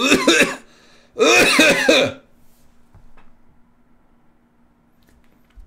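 Two harsh coughs, close and loud, with a short gap between them, followed by near silence and a faint steady hum.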